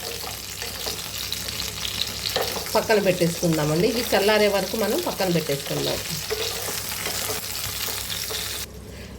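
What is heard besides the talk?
stuffed brinjals frying in a pan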